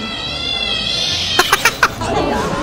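A cat meows in a short series of quick, high calls over a steady background hum.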